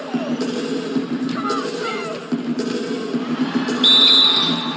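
Referee whistle in the NBA 2K17 basketball video game: a single sharp, sustained blast near the end, rising over steady crowd noise and broadcast commentary.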